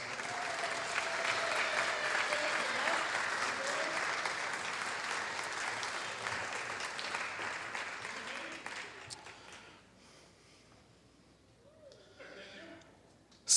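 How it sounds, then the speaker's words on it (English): Audience applause for elementary school award winners at a student film awards screening, fairly distant and steady, fading after about nine seconds to quieter scattered claps. "Big round of applause."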